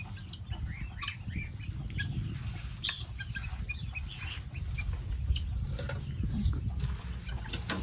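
A small flock of guinea fowl cluck and chatter near at hand, a busy run of short repeated calls over a low background rumble.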